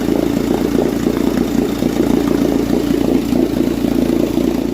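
A 1958 Johnson 18 horsepower Seahorse outboard motor runs in a test barrel, a loud, steady mid-pitched idle with a rapid clattering pulse and no talking over it.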